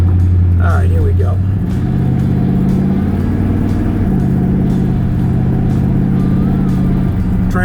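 A 1967 Chevrolet El Camino with a fuel-injected 400 small block and T-400 transmission drones loudly from its exhaust while driving, the steady low note stepping through a gear shift with a brief rise in pitch.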